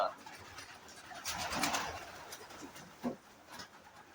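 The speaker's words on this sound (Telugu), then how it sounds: "చూడండి ఎన్ని పావురాలు ఉన్నాయో" A flock of large pigeons coos softly at a farmhouse in Wafra, Kuwait. The calls are faint and low, with a brief fluttering rise mid-clip against quiet outdoor ambience and a little murmured voice.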